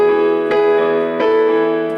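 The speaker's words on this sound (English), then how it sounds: "I'm just vamping on my E octave" Piano vamping on an E octave, repeated chords struck about every three-quarters of a second and left to ring, loud and close with no voice, part of a song accompaniment.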